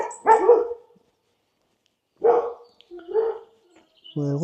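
Dog barking at a distance in short separate bursts, with a pause between them and quieter bird-like calls mixed in.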